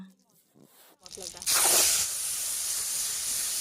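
Spice paste hits hot oil that already holds a little cumin, for a rui fish curry with cauliflower and potato. After a quiet start, a loud, broad, steady sizzling hiss bursts up and holds to the end.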